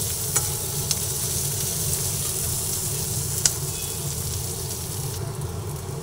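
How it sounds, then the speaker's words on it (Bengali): Sliced onions fry with turmeric powder for a katla fish curry, producing a continuous loud sizzle with occasional utensil clicks and no voices. "গুঁড়ো দিয়ে আবার একটু পেঁয়াজগুলোকে ভালো করে ভেজে নিচ্ছি"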